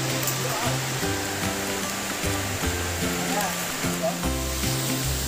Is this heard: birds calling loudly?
no